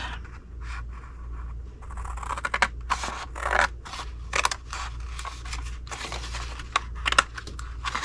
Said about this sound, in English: I'm going to cut off all of it.